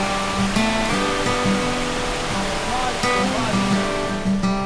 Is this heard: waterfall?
yes